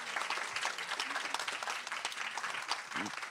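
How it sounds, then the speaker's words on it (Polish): Audience applause for panelists at a conference Q&A session, a dense, steady wash of many hands clapping that continues without a break. "bardzo proszę o, o gromkie brawa"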